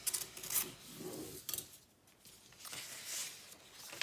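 Paper being folded in half for a layered Chinese lantern, with soft rubbing and crisp creasing rasps in short bursts, close and fairly quiet, with no talk.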